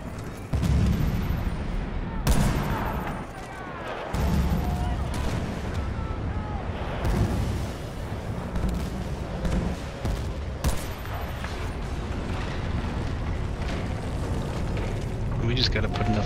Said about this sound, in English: I'm sending a mortar strike.